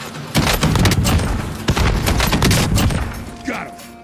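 A frag grenade exploding amid gunfire in a first-person shooter game, a dense run of sharp loud shots and booming thuds, close and continuous, tapering at the end.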